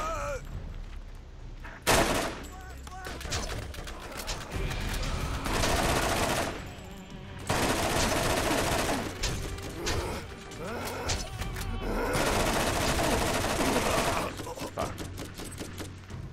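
Gunfire from weapons in the Borderlands video game, rapid bursts of shots in several long volleys separated by short pauses, loud and close, with other game action sounds mixed in.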